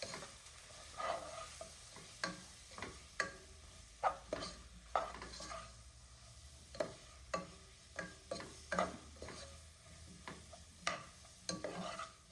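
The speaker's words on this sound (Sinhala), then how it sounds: "මේ ටික එකතු කරලා මේ සේරම ටික හොඳට කලවම් කරනවා." A spoon stirs spices into a sardine fish curry made from tinned fish, and the mixture sizzles softly in the pan. There are about a dozen distinct scraping clinks at an uneven rhythm, each standing out above a quiet, steady frying hiss with no talking.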